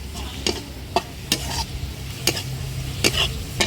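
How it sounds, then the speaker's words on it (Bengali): Garlic fries in a pan for a Bangladeshi fish-tail bharta, a low steady sizzle broken by about seven sharp scraping clacks of a spatula stirring at a loose, irregular rhythm, close and clear with no talk. "রসুনটা ভাজা হয়েছে, এবার তুলতেছি।"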